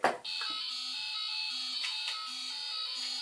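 Temperature alarm buzzer on an eco smart city museum model, sounding as a steady, continuous electronic tone after a brief click at the start, held unbroken for several seconds.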